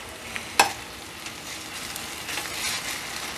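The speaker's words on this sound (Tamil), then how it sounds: "ஸோ இஞ்சி பூண்டு பேஸ்ட் நல்லா வதங்கிடுச்சு" Onion frying with ginger garlic paste for a Chennai-style vadai curry: a soft, steady sizzle with one sharp utensil clink near the start, then a slightly louder stir.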